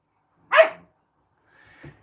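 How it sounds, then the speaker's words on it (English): A single sharp dog bark rings out, followed after a pause by a fainter, shorter yelp; no talking. "if you hear any barking in the background"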